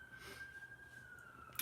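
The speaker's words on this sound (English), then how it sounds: "I'll apologize first of all if you hear the sirens in the background." A faint, distant emergency vehicle siren holds a single steady wailing tone far in the background over quiet room noise.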